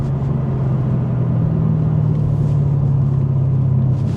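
Mercedes C63 AMG on its last drive, engine rumbling in a steady, deep, continuous drone, close and loud throughout with no voices.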